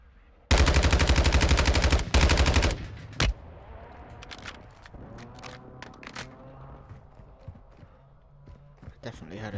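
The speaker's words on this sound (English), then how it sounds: "Definitely heard a sniper shot." A loud, sharp rifle burst opens the Warzone 2.0 scene, followed by a single heavy crack and scattered fainter shots, with someone talking over the quieter stretch afterward.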